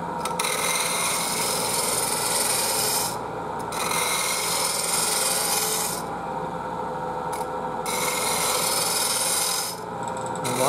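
A bowl gouge shear-cutting a walnut bowl on a wood lathe gives a steady, close, raspy scraping hiss that briefly drops away a few times between passes, with no voices.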